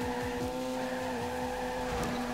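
A street-tuned Nissan 370Z drifts on the Hakone mountain roads in the game Torque Drift, its engine droning loudly and steadily while the tires squeal throughout, with no talk.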